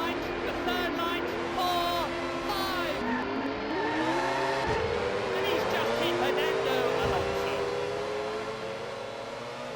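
Steady synthetic-sounding car engines from a PlayStation NeGcon racing game whine and rise in pitch, several overlapping, continuous and fairly loud throughout.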